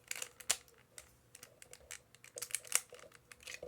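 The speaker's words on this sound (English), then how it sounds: "See if the fist will go in and it'll do a nice soft click" The plastic fist of a TwinCast & Rewind action figure being pushed into its socket, giving a series of small, quiet, close clicks and taps with one or two sharper snaps.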